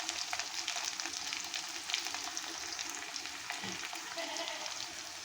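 Potatoes fry in a small amount of oil for a rohu fish curry with pointed gourd, a steady, dense sizzle with scattered pops running unbroken throughout at moderate loudness with no voices.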